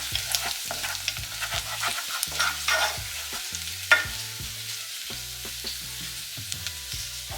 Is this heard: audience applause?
no